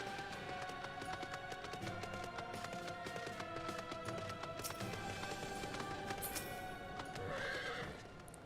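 A horse's hooves gallop in the Final Fantasy XIV video game in a steady rhythmic clip-clop, moderately loud, running alongside layered game music and effects throughout.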